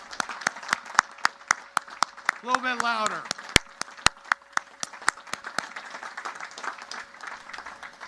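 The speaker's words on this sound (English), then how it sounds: "A big round of applause for your parents." A graduation crowd in rain-soaked stands at the US Naval Academy claps in sustained applause, with scattered sharp claps close to the microphone and someone speaking briefly over it.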